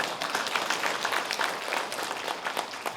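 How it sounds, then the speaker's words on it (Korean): Audience applause during a lecture on immunity, a continuous even round of clapping from a seated crowd, moderately distant and without speech. "일단 박수 한번 하시죠."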